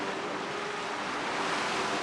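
Steady, broad roar of ocean waves and swells breaking near rocks on the Hawaiian coast, continuous and fairly loud with a faint wind rush and no talking.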